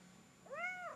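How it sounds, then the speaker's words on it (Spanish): A kitten gives a single short, rising-and-falling meow, faint and close, against a quiet indoor background. "aquí está el gatito que me quiere demasiado"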